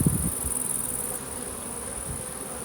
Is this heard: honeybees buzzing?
yes